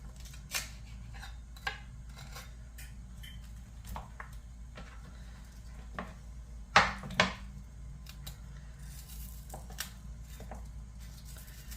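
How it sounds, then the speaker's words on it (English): A knife slicing a red onion on a cutting board gives sparse, sharp clicks and taps, one louder double knock midway, close and quiet over a low steady room hum. "next I'm going to cut a little bit of my red onion that I have here"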